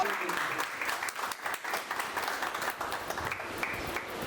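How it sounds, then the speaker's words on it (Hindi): Steady, dense audience applause fills the whole stretch at a seminar event, many hands clapping together at even strength from start to finish. "आप अपने लिए एक जबरदस्त ताली बजा सकते हैं"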